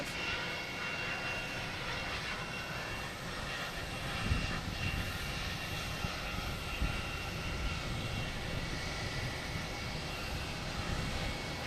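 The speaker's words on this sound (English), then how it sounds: "Next to arrive here is a Delta connection coming in from Indianapolis. Flight 5631, Embraer 175." A Delta Connection Embraer 175 jet arriving at Logan Airport gives a steady, loud, broad engine roar that holds at a fairly even level throughout.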